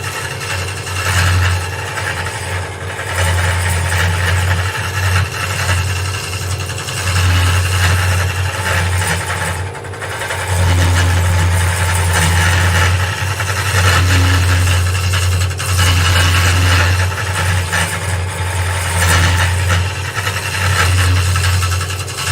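A wood lathe hollowing a vase with hollowing tools gives a steady, loud motor hum with a low drone, while the tool's grinding scrape rises and falls and briefly drops away partway through.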